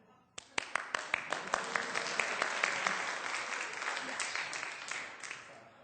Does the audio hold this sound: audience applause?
yes